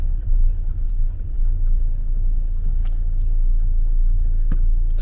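A Mercedes Vito van driving along a rough road, heard from inside as a steady, loud low rumble of engine and tires with a few faint knocks.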